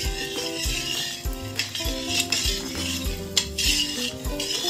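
A spoon clinks and scrapes repeatedly against a bowl as sugar is stirred into milk, with rhythmic metallic taps close by and no speech.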